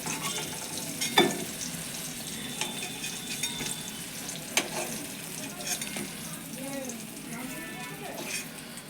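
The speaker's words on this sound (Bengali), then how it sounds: "দেখো এরকম করে কিন্তু আমি বেগুন ভাজা ভেজে নিচ্ছি" Eggplant slices fry in hot oil with a steady close sizzle, broken by occasional spatula scrapes and taps against the pan, while a voice speaks briefly over the cooking.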